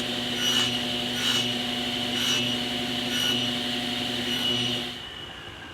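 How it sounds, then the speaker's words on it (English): Quick sanding of wooden sling puck parts: a rhythmic back-and-forth rasp close by, about six even strokes that stop near the end, with no voices. "Some quick sanding."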